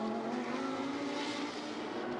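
Race car circling the track at Virginia International Raceway during a Super Trofeo North America event, its engine a steady, sustained drone with a rising pitch, continuous and fairly loud with no talk over it.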